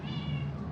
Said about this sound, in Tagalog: Lumabas yung pusa namin.